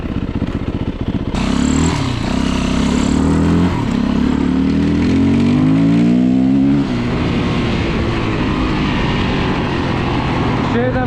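A Yamaha WR450F dirt bike after repair roars loud and close as the throttle opens, engine pitch climbing and then holding at a steady high drone for several seconds.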